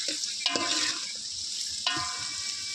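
Chillies and onions frying in oil in a pan on a gas stove, a steady close sizzle with two sharp stirring scrapes, no talk.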